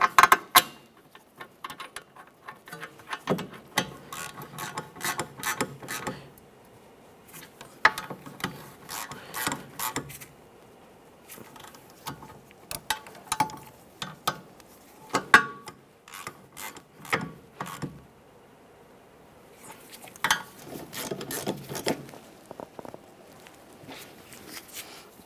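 Rear wheel hub mounting bolts on a 2012-2015 Honda Civic snugged up with a ratchet, bursts of rapid close clicking separated by short pauses, repeated across several bolts.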